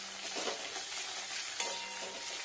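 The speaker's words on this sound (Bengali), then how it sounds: "ডালটা ফ্রাই হবে।" Mung dal frying in mustard oil in a pan, a soft continuous sizzle with faint stirring scrapes, steady and close with no voices.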